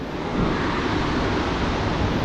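Ocean waves wash steadily onto a New Hampshire beach in rough pre-storm surf, a continuous broad rushing roar with wind noise on the microphone and no voices.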